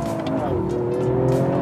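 Toyota GR Yaris accelerating hard, its engine note climbing steadily and loud through a short burst, with a voice speaking over the continuous drive.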